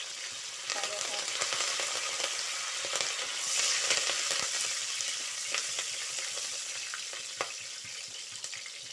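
Curry leaves frying in hot oil for a mixed vegetable curry, giving a steady, close crackling sizzle with scattered pops throughout and no talking.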